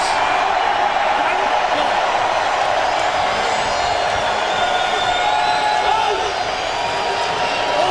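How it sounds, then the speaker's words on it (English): Crowd noise from the stands at a 2001 XFL football game in Orlando, a broad steady roar of many voices that is loud and continuous, with commentators talking over it. "A lot of noise from this crowd here in Orlando"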